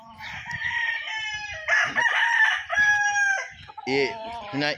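Young laying pullets on a farm cluck and squawk in repeated bright bursts close by, mixed with a crowing rooster, with no talk over them.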